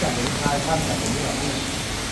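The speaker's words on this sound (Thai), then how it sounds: "กาญจนบุรีฝนตกครับทุกคน" Heavy storm rain falling in Kanchanaburi, a dense steady hiss filling the scene at constant loudness, with someone talking over it.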